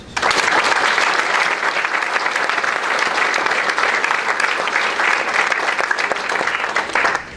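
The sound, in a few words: audience applause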